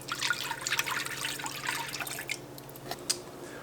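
Whole milk pours in a steady liquid stream and trickle for cheese whiz, close and moderately quiet, tapering into a few drips with no talk.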